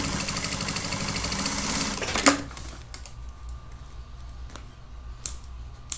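A sewing machine runs a rapid burst of stitches through fabric with a backstitch, sewing a hanger organizer, then slows to scattered quieter clicks and taps.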